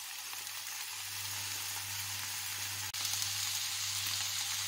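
Sliced onions sizzle in olive oil in a frying pan, a steady close crackling hiss throughout, broken once by a brief soft knock.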